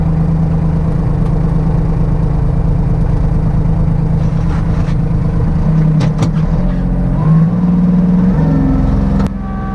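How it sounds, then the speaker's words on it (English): A Kubota tractor pushing snow with a blade, a loud, close, steady diesel engine drone with a slight rise in pitch near the end and occasional scraping clunks. "now we're going to blade out the section I just used the blower on"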